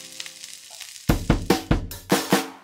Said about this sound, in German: Ungefähr jetzt 2 bis 3 Minuten pro Seite anbraten und danach sind die Leibchen schon fertig.